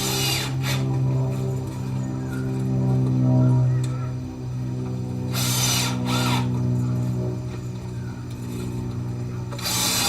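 A cordless drill drives deck screws into an old deck joist with a steady, grinding whir. Brief bursts of squeaky friction break in now and then, heard up close.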